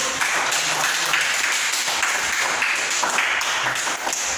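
A class of students applauding in an Indonesian classroom, a dense, continuous patter of many hands clapping close by, steady for several seconds without a voice over it.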